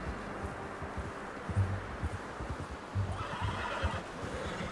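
A horse in Red Dead Redemption 2 gives short snorts and whinnies with a few hoof thuds, all over a steady outdoor ambience.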